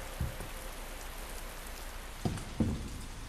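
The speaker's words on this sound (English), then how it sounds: "It's cool how Leon actually interacts with the rain." Steady rain hisses as a constant wash in the Resident Evil 2 remake, with a few soft low thumps breaking through the downpour, no voices.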